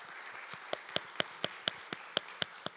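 A conference audience at a plenary session on smart cities claps in a short, spaced run of about ten distinct claps. The claps are faint and distant, with a low room hum between them.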